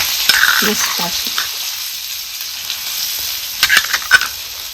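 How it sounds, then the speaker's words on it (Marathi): Pounded raw mango and peanut chutney sautés in hot oil, giving a loud steady sizzle and hiss with a few brief spoon scrapes and taps, clearly audible on its own. "आता ही जी कुटून घेतलेली आपण चटणी ना ही ह्या तेलात चांगली परतून घ्यायची."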